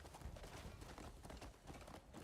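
Horse hooves clatter in a rapid, steady galloping rhythm in the video game Crimson Desert, moderately loud with a low rumbling backdrop and no speech.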